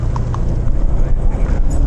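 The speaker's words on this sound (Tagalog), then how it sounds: "Kabayo." Horse hooves clip-clopping on a damp road in Lucban, Quezon, heard close by with a few sharp hoof strikes under steady engine and road noise.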